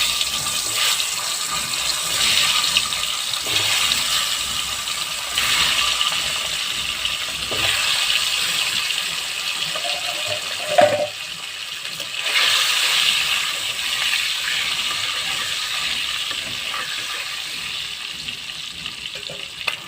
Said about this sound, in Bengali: এবার তেলে একটু ভেজে নেব।